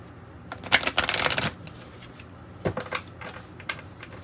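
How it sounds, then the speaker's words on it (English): Tarot and oracle cards from the Wild Unknown deck are shuffled close by, a dense riffling burst followed by a few lighter, scattered card flicks and taps, with no talking. "I'm going to pull an alchemy card from Kim Cran's Wild Unknown deck first"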